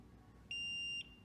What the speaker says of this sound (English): the elevator communication failure is beeping and blinking as well